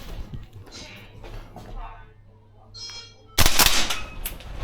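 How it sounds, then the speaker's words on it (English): A Tokyo Marui AK gas blowback airsoft rifle with a heavy recoil spring fires a sudden loud burst of sharp, rapid cracks in the final second, after a stretch of quieter rustling and handling noise. "We'll take 2 mags like the other one, make sure the tracer's on, and we'll give it a go."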